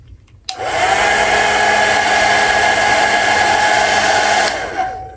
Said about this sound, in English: So I have a hairdryer, I'll show you real quick.